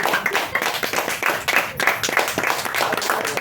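An indoor audience bursts into a steady round of dense, loud hand clapping at a talk, sustained evenly for a few seconds with no voices over it.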